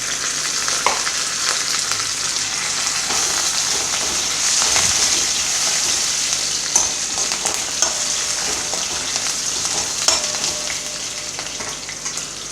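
Curry leaves sizzle and spatter in hot oil as a dal tadka tempering is fried, a steady dense crackle with sharper pops, close and continuous with no talking.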